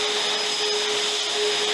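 An Ego LB6000 battery leaf blower runs at full power, a loud close steady whoosh of rushing air with a thin electric whine throughout and no talking.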